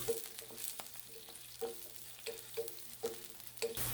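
Cumin, pepper, garlic, green chili and ginger sautéing in a pan, a soft close sizzle with spatula scrapes and taps recurring every half second or so, and no talking.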